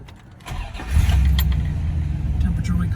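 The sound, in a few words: 1967 Pontiac GTO engine starting and idling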